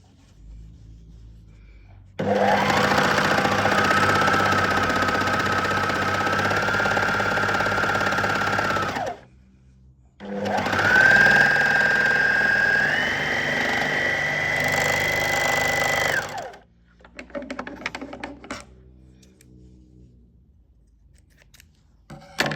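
An overlock sewing machine stitches hoodie sleeve and side seams in two sustained runs of steady, fast whirring and chattering, separated by a short pause, followed by quieter fabric handling.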